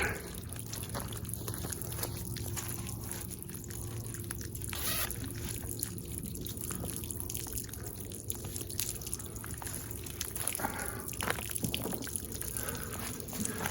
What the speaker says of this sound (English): maybe I can just crack that thing open a little and let it drain down before I let it flush out the bottom